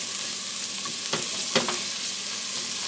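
Garlic fries in a pan with a steady, close, hissing sizzle, broken by a couple of soft stirring scrapes.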